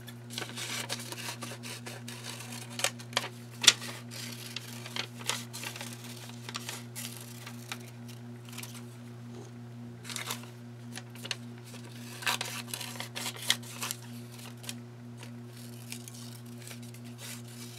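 Scissors snip out leftover paper scraps from crayon monoprint work, a run of quiet, close crisp cuts and light paper rustles over a steady low background hum, with no talking.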